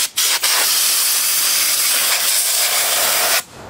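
Compressed air blasts steadily from a nozzle, blowing grease off small parts from a homemade four-cylinder Briggs engine project, loud and close, cutting in after two short puffs and stopping abruptly near the end.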